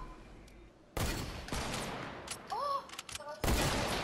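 Gunfire in the video game Fortnite: a first loud shot followed by more blasts and rapid shots over a couple of seconds, with in-game chimes between them.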